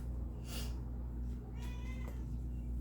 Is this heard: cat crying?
yes